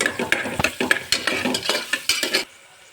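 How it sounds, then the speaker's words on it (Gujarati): Onions fry in oil with a crackling sizzle, punctuated by repeated scraping and clinks of a spoon stirring the pan, close, then sudden quiet. "હવે આપણે એને તેલમાં ગોલ્ડન બ્રાઉન સુધી એનું કૂક કરી લઈશ"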